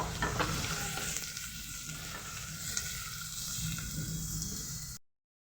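Two medium onions, sliced very thin, fry in a pan with a steady, close sizzle and hiss that runs unbroken for about five seconds before cutting off abruptly.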